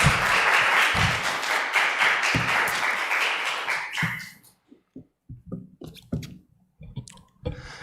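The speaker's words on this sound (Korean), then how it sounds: "우리 이 목사님 강단에 나오실 때 큰 박수로 환영해 주시길 부탁드리겠습니다" Congregation applauding in a church to welcome a pastor to the pulpit, a dense sustained clapping crowd for about four seconds that then thins to scattered, isolated claps and small knocks.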